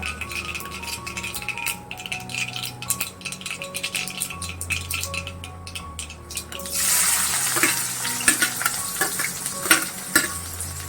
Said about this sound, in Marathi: आता आपण कांदा घालूया बारीक चिरलेला।